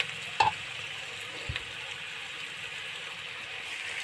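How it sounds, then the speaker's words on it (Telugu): Onions and other ingredients for a poha dish fry with salt in a pan, giving a steady, moderate hiss broken by a couple of small clicks and pops, with no voices. "ఒక టూ మినిట్స్ వేగాలి ఫ్రెండ్స్ ఇవి"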